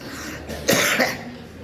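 A single close cough with some throat clearing from a preacher giving a hajj seminar talk, one short loud burst standing alone.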